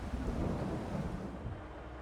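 Steady rain in Farming Simulator 22 on a rainy morning: a dense, continuous wash of falling rain with a low rumbling undertone, fairly loud and even throughout, with no voices.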